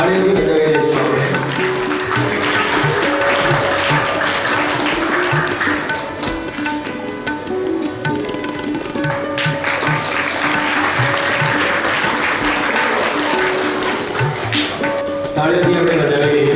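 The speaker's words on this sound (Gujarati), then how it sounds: "તાળીઓથી વધાવી દઈશું આપણે." An audience at a primary school principal's farewell ceremony claps to welcome a guest, a loud, sustained burst of crowd applause with a steady tonal hum underneath.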